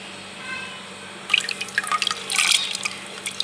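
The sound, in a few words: soaked moong dal added into water in clay pot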